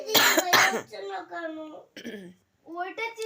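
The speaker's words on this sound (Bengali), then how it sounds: "কাশি হচ্ছে" Two loud, harsh coughs burst out close by at the start, followed by a person speaking in a tired, strained voice.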